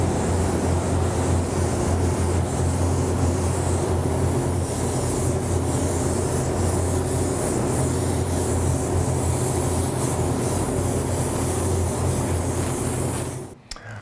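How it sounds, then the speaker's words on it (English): A continuous hissing spray paints a prop laser blaster, running steadily for many seconds over a low mechanical hum, then cuts off abruptly near the end. "So I'm going to step back and let you start spraying."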